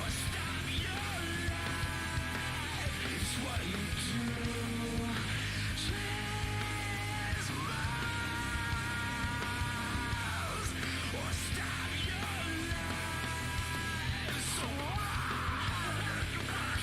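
Screaming vocals from a song cut through dense, loud distorted rock, with yelled phrases rising over the full band.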